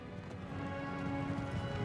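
Heavy cavalry gallops across the battlefield in the video game Empire: Total War, a dense, fairly quiet, continuous rumble of many hooves with no talk.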